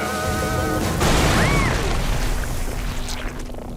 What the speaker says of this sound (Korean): 미끼가 폭발하는 게 신기해